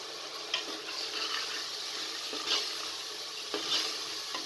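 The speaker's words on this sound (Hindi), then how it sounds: "कीमे को आपने इतनी देर फ्राई करना है कि इसका जो कलर है वो चेंज हो जाए।" Minced meat keema frying with spices in a pan for a green beans keema, a steady close sizzle with occasional scraping stirs and clinks of the spoon against the pan.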